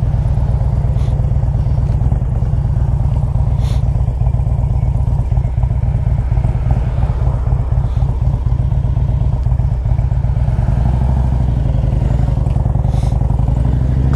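Loud, steady idle of a 2001 Harley-Davidson Ultra Classic V-twin engine fitted with an S&S top end, a continuous low rumble with a loping beat that holds close and even throughout, with no talk over it.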